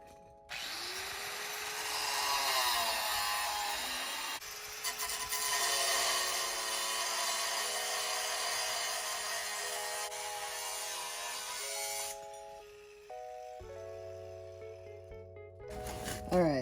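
Rusted metal being cut out of a 1972 Corvette body with a power tool, a loud sustained grinding whine that shifts pitch as the tool bites and eases, then brief ratcheting clicks and a final clatter near the end.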